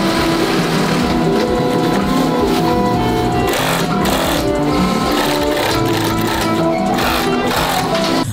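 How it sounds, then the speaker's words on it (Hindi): Factory sewing machine stitching the lining and heating system into a wool jacket, a loud steady mechanical whir with rapid needle rhythm and occasional bursts, running continuously with no talk. "जिसके बाद जैकेट के अंदर की लाइनिंग की सिलाई पर हीटिंग सिस्टम की सिलाई की जाती है"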